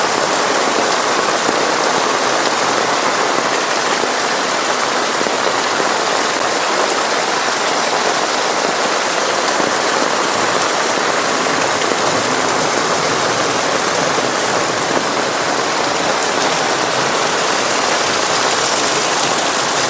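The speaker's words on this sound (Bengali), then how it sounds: "এত পরিমাণে বৃষ্টি হচ্ছে এখন এই মুহূর্তে আমার অঞ্চলে" Heavy rain pours in a dense, unbroken roar that stays loud and constant from start to finish.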